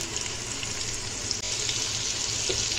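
Cumin seeds and ginger-garlic paste frying in a pot with a ladleful of oil, a steady close bright sizzle that holds evenly throughout, with a brief dip near the middle and no talking.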